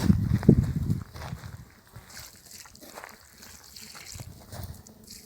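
Liquid natural fertilizer is poured onto strawberry roots in a garden, a brief heavy splash followed by faint trickling and sloshing.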